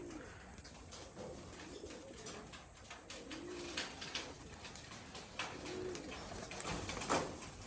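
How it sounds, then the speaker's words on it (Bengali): Soft coos from Rajshahi Giribaz flying pigeons landing sound a few times at a distance, low and rolling, amid outdoor background noise and scattered clicks. "এই যে যেগুলো কবুতর উপরে উঠছিল ওগুলো নামলো"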